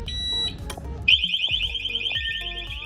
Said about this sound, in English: They all produce loud alarms up to 120 decibels each.